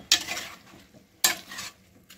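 Two quick scraping stirs of fried raw plantain pieces tossed with salt and chili in a pan, each a sharp rasping sweep followed by a soft sizzle, close and loud with no voices.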